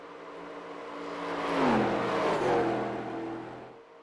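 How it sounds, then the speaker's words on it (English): A stock car in the Vertex Stock Car Cup racing game at 1987 Darlington slides around the track, its engine droning and swelling in pitch as it sweeps past, loud and close, then fading slightly at the end. "You can just hear the car is actually sliding all the way around."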